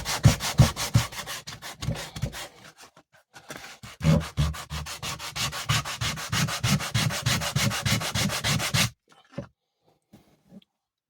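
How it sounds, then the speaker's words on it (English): The edges of a leather knife sheath are rubbed flat on sandpaper in steady back-and-forth strokes, close and fairly loud. There is a short pause partway through, and the scraping stops near the end. "I'm just going to put it on a piece of sandpaper and just flatten it out."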